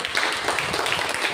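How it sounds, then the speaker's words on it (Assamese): A church congregation claps loudly and steadily, a dense wash of applause that fills the moment without pause. "জোৰকে তালি বজাই চব ধন্যবাদ।"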